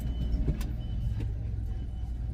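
A car rolling along the road with family aboard, a steady low engine and road rumble filling the interior throughout, with a couple of faint brief bumps and no talk.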